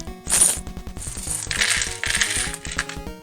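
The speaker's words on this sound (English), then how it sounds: "See a lightsaber piece fall out" Small plastic LEGO pieces spill and clatter out of a bag, a quick run of light ticking clicks and rattles lasting a few seconds, close and fairly loud.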